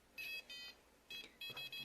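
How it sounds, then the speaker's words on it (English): A smart lock system's buzzer sounds as the door unlocks: two short high electronic beeps, a pause, then three more in quick succession, thin and clear against a quiet background. "the buzzer rings"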